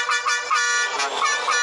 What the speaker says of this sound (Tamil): பார்த்தீங்கன்னா இதுதான் நம்பர் 1 ஹாரனு